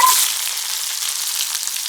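Mustard seeds and shallots frying in a pan for a pumpkin-leaf tempering, a bright, close hiss of hot oil with a brief pop at the start, steady and fairly loud.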